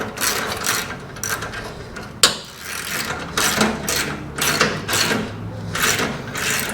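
A ratchet wrench clicks in quick repeated bursts while 9/16 bolts on a trailer spare tire mount are turned, close and fairly loud, with one sharp knock partway through and no talking.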